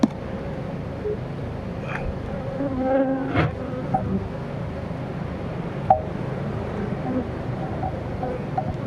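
Dense, steady buzzing of many honeybees close by at a hive, a continuous insect hum with faint voices in the background.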